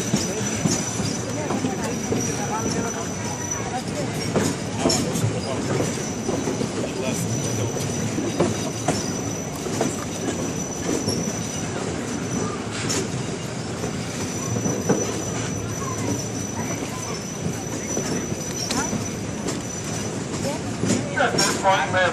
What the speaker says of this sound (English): She's what's known as a Shay locomotive.